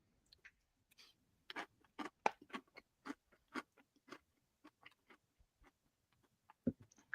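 Crunchy cereal being chewed up close, a series of sharp, dry crunches in an uneven rhythm, fairly faint and isolated with no talk.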